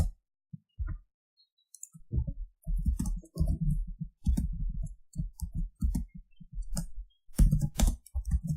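Clicking keystrokes on a computer keyboard come in close, uneven bursts with short gaps, fairly loud against near silence.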